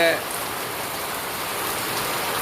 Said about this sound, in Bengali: আসলে প্রচুর বৃষ্টি হচ্ছে দেখতে পাচ্ছেন যে